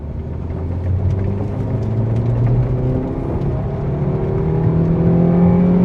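Maruti Fronx 1.2L car engine revving up toward 6000 rpm while driving, a loud, steady rising drone with a low rumble that climbs in pitch across the clip.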